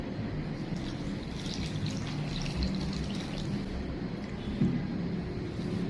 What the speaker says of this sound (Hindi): ये इसके अंदर पानी डालेंगे।